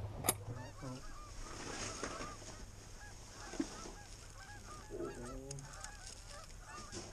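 Geese honk repeatedly from a moderate distance as they fly in during a goose hunt, with scattered calls over a low outdoor rumble.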